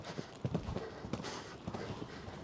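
Hooves of a ridden horse clip-clop steadily during a riding session, several soft beats in an uneven rhythm, fairly faint against a breathy background.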